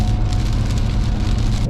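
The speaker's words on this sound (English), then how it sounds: "The rain comes." Steady rain in Tampa, Florida, patters on a surface in a constant, dense hiss, close and fairly loud, with no voices.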